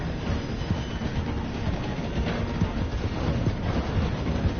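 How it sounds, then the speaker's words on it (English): A steam-era train rolls along rails in Red Dead Redemption 2, a continuous dense rumble and clatter of wheels with steady wind rush, loud and close, no voices in the moment. "The train is slowing down to go through the station."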